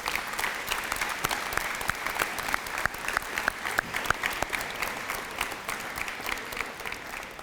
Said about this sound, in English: So please, class of 2026, give them a round of applause, please.